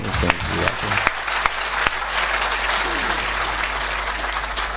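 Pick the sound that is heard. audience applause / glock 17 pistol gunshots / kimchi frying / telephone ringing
audience applause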